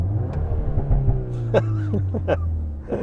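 A VW Golf 8 R engine revs and rumbles close by at a race track, a throaty low drone holding steady while brief voices and laughter break in over it.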